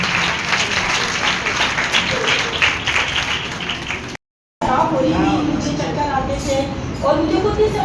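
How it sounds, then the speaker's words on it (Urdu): Audience clapping at a church testimony gathering, a dense round of applause that breaks off abruptly, then a voice speaks over lingering sound. "آئے خداوند کے لیے زوردار تالیاں بجائیں گے"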